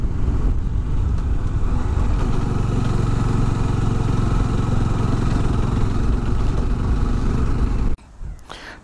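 A Bajaj Dominar 400 or RC 200 motorcycle engine drones steadily and loudly while riding, with wind roar throughout, then cuts abruptly near the end to a brief quieter rustle.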